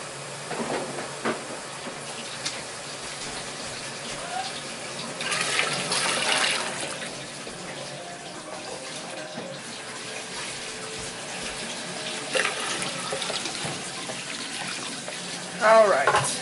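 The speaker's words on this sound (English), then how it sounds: "Oh, I'm going to have to put some more water." Tap water runs steadily into a pot while salsa is being canned, a broad continuous splashing hiss that swells in places, with a brief clatter near the end.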